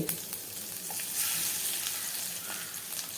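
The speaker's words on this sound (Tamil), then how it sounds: "ஆயில் காஞ்சிருச்சு காஞ்சோடனே கடுகு சோம்பு தட்டி வச்ச பூண்டு" Mustard seeds, fennel and crushed garlic fry in hot oil, giving a dense, steady sizzle with small crackles and pops, close and loud with no talking.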